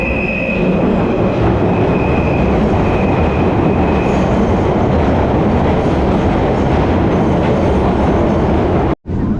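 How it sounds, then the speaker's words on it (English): A London Underground train on the District or Circle line runs at speed with a loud, steady rumble and rattle, a faint wheel squeal early on, and a sudden brief drop near the end. "we'll take the District line to High Street Kensington and then the Circle line back up to Notting Hill Gate"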